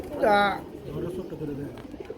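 A Pakistani high-flyer pigeon gives a single short coo near the start, followed by softer low murmuring sounds in the background, at a pigeon farm.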